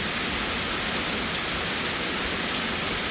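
Steady rain pours down during a storm in Laos, a dense, even hiss of drops on surfaces with no pauses and no voices, fairly soft and constant throughout.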